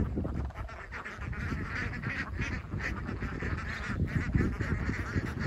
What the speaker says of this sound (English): look at the cranes.